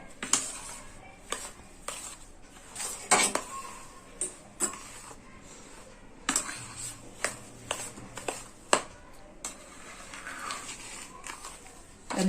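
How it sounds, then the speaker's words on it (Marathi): Roasted semolina being stirred into whipped ghee and sugar for rava ladoo, heard as a run of close, sharp spoon clinks and scrapes against a bowl, irregular and separate, with no talk over them. "हे फेटलेलं तूप आणि साखर आहे त्याच्यामध्ये आपण हा घालूया. हे सगळं असं मिक्स करून घेऊया."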